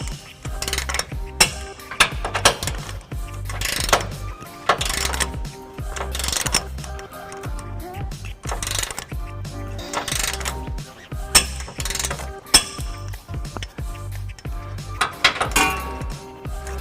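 A ratchet wrench tightens trailer hitch bolts on a 2015 Nissan Titan, with rapid clicking bursts in repeated strokes, close and loud, and metal clinks between them.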